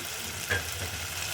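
Tomatoes fried down in a pan for a bottle gourd dish, giving a steady soft sizzle close by with one brief clink of a utensil partway through; no voices.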